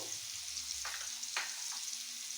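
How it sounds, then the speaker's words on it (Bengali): Potatoes fry in a pan with a soft continuous hiss, broken by a few brief utensil scrapes near the middle, quiet and close. "আমার আলু কটা দিকে ভেজে নিচ্ছি।"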